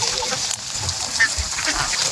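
Ducks being loaded onto a transport vehicle, with a steady chorus of quacking and honking from a crowded flock nearby and occasional louder calls over a busy background.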